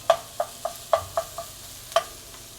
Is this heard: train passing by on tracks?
no